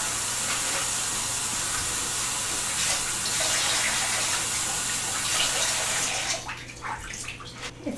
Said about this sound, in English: Let's rinse off the bamboo basket first.